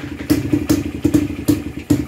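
Jawa Libeňák motorcycle engine running during carburettor tuning, a close, loud, lumpy mid-pitched idle with rhythmic exhaust thumps about every 0.4 seconds and a faint rattling clatter.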